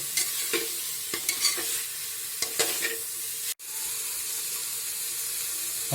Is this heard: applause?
no